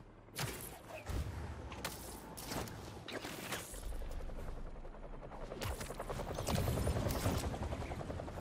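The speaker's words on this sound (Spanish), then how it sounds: "Las palas de un helicóptero." Helicopter rotor blades in the video game Marvel's Spider-Man 2, a rhythmic chopping beat mixed with heavy game action sounds like bursts and thumps, building louder toward the end, with no talk.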